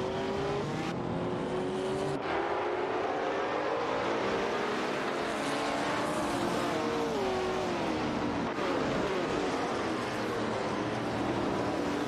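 Race car engines roar continuously in a race as the cars run close and loud, their pitch rising and falling with shifts and revs over a dense, unbroken mechanical din.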